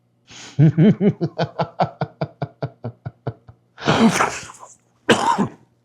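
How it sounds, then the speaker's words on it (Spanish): A long fit of rapid, rhythmic coughing, a dozen or so bursts slowing and fading, then a rougher cough and a final hack. "me dio tos."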